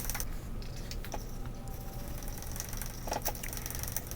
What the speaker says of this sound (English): This was a lot of hand planing until these end pieces got pretty close